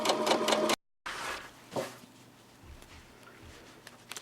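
A sewing machine stitches a garment seam half an inch from the seam line, a busy burst at the start, then a break and quieter stitching under light handling noise.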